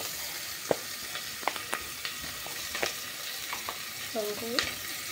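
Garlic sizzling and frying in a pan, with a continuous hiss broken by sharp scrapes and clinks as it is stirred, close and fairly loud, with no talking.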